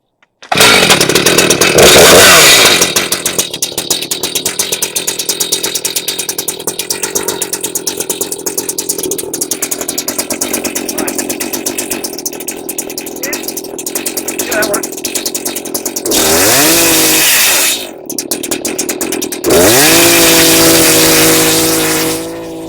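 A loud chainsaw roars continuously, its engine revving up and down as it cuts natural wood for a garden arch, close and dominating throughout.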